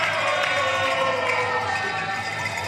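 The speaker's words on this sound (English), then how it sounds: "the freeze chants starting to go from their sideline" Spectators at an INTENNSE team tennis match in the arena chant steadily from the sideline for the Freeze team, a dense, continuous crowd roar with rhythmic voices and no gaps.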